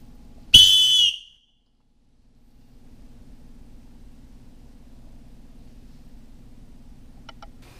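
A HyperWhistle blown as hard as possible, reaching about 143 dB: one piercing, very loud blast lasting under a second, then a faint low hum.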